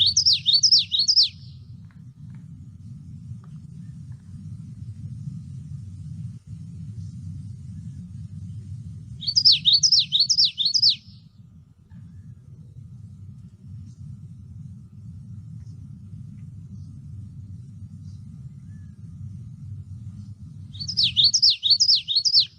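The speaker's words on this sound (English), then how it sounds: "Another good one is a common yellowthroat," Common yellowthroat singing in a marsh, three short bursts of its rapid rolling phrase spaced several seconds apart, fairly clear over a steady low rumble of distant traffic.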